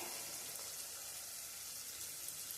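Tomatoes softening with onion in hot oil give a faint, steady sizzle with a soft crackle, continuous and low, no voices.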